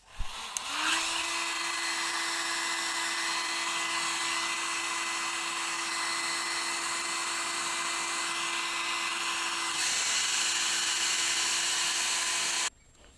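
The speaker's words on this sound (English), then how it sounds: "now that I have blow dried it" A hair dryer blow-dries a full lace wig during knot bleaching, switching on with a click and holding a steady, close whine and airy rush for about twelve seconds, the pitch shifting slightly near the end before cutting off.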